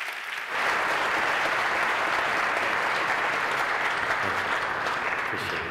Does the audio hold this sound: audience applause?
yes